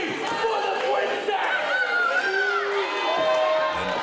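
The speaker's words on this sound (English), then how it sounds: "Listen to the crowd really reminding Drake what happened to Princess Josh" Wrestling crowd at an independent wrestling show, a steady loud din of shouting and chanting voices with some high children's shouts and cheering, continuous throughout with no break.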